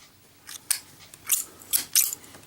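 Zippo Fire Breather lighter with a two-piece plaque, a few short muted metallic clicks and scrapes of the lid opening and the wheel striking, close and fairly quiet.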